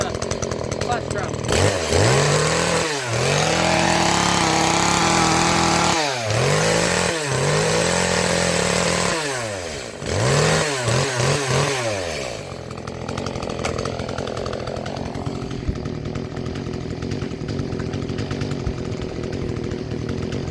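A repaired Echo CS-310 chainsaw runs nearby, its two-stroke engine revved up and dropping back to idle several times in repeated bursts before settling into a steady idle.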